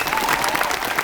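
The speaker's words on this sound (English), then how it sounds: "A round of applause for Cassandra Peterson." Applause from a convention crowd at a horror convention Q&A with Elvira actress Cassandra Peterson, a brief loud wash of many hands clapping at once.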